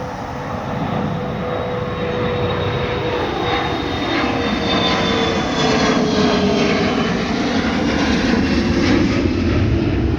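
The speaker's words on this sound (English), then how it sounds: "This is a smaller plane." A steady, loud propeller-plane engine drone passing close overhead, sustained throughout with a slight shifting whine.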